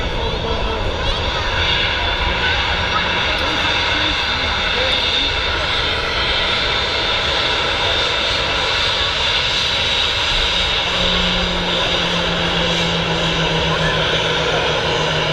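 Boeing 737 jet airliner engines at Manchester Airport roar loud and steady throughout, with a broad continuous rumble and a faint rising whine near the end, under occasional talk.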